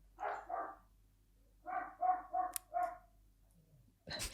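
A pet dog barks indoors in the background, two quick barks followed by a burst of four in a rapid row, then a short pause before another sound starts; moderately faint and with no talk over it.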